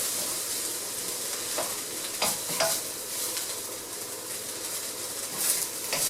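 Fried rice with carrot and peas is stirred in a hot pan, a continuous sizzling hiss broken by scraping strokes of the utensil, close and fairly loud with no voices.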